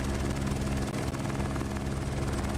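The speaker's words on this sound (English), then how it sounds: "we can still hear the helicopter as if we're like standing right next to it" Helicopter in a flight simulator at Cape Town airport, its rotor thrum and engine whine loud and near, holding steady throughout without speech.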